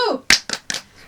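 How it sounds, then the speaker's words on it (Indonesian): Sunday school children join in a short 'tepuk semangat' cheer clap during an online class, three sharp claps in quick rhythm following a brief bit of a voice. "Yuk kita tepuk semangat"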